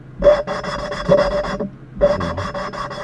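Valve seat being ground on a Ford 3.8 engine: loud, close rhythmic rasping strokes in two quick bursts separated by a brief pause, steady back-and-forth scraping with no voices.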